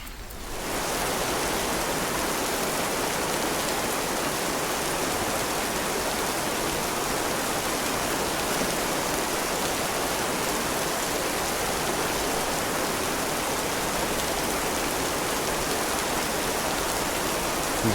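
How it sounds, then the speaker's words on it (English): Steady, dense rain hiss from the game This Land is My Land, constant and loud from the first second to the end with no let-up or talk. "Oh, there's the rain."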